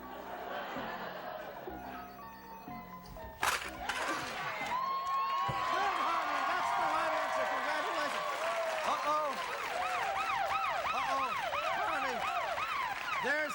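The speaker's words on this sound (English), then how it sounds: "There's that warning siren, Harvey." A warning siren wails in a comedy sketch, cycling up and down repeatedly for several seconds after a sharp noise, with voices talking in the background.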